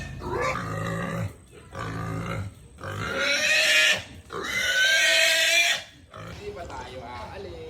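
A pig squeals loudly in several long, strained bursts with short pauses between them while being caught in a rural province setting.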